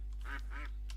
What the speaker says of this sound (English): Ooh, there's some ducks.